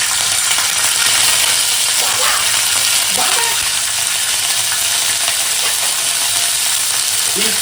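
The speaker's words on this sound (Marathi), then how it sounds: "तेल हे आला लसूण पेस्ट आहे ती टाकून घेऊया" Ginger-garlic paste dropped into a pan of hot oil gives a steady, loud sizzle and crackle that runs through the whole stretch, with a few faint clinks from a spoon or pan and no talking.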